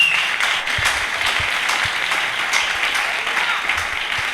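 A church congregation applauding together, a steady wash of many hands clapping with scattered sharper claps, continuous and fairly loud throughout.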